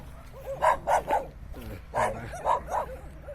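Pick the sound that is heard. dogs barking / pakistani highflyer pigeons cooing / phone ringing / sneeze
dogs barking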